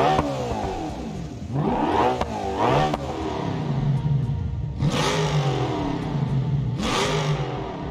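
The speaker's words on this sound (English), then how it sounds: "engine noises that would change depending on the part selected and the damage that the exhaust sustained" A car engine revs repeatedly in the driving game BeamNG.drive, rising and falling in pitch with several sharp surges, loud and close with no voices.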